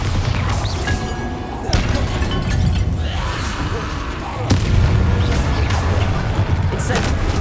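Bombarda explosion spells in Hogwarts Legacy on PC, heavy booming blasts with crashing debris, two stronger hits landing a few seconds apart amid continuous loud game noise.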